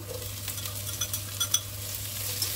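Fish balls stir-fry in oil after garlic, with a steady sizzle broken by a few sharp scrapes and clinks of a utensil against the pan. The clinks cluster near the middle, and no voices are heard.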